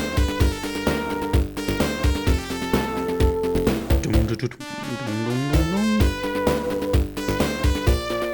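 Sega-style chip music from the Phantasy Star IV town theme, with a bright synthesized trumpet-like lead over a punchy rhythmic beat and a brief sliding pitch sweep midway, loud and continuous.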